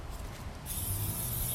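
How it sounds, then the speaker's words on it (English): Aerosol spray paint can hissing out flat black paint in an at-home spray station, a steady bright hiss starting partway through and continuing to the end over low room rumble. "so we're just gonna spray paint it."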